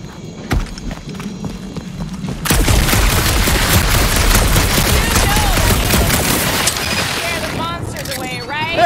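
Rapid gunfire and explosive bursts in a dark monster-planet shooter game, a sustained loud barrage starting after a quiet opening, with a voice talking over it.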